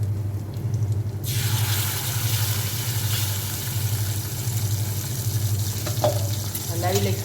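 Gravy hits hot oil in a pan of stuffed bharela marcha chilies, setting off a steady, strong sizzle and frying hiss that holds throughout, with a few stirring clinks toward the end.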